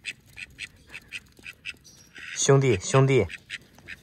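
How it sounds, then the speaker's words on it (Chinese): A duck quacks loudly up close, with two bursts of quacking by a riverside, while someone speaks underneath and around the calls. "这鸭子一直跟着我，不停的搓我，还喜欢往我手上爬"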